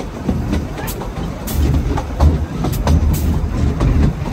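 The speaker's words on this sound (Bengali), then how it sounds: "বাষ্পীয় ইঞ্জিন দ্বারা চালিত ট্রেন।" A steam-engine train on the Llanberis Lake Railway rolling past close by, loud rumbling with rhythmic wheel clatter and sharp intermittent bursts, no talking heard.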